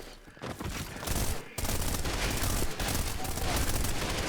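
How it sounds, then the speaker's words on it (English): Video game gunfire during a speedrun rattles outdoors in dense bursts, sounding like a sustained fusillade of several weapons, loud and continuous after a brief quieter opening. "Oh, it's them shooting outside."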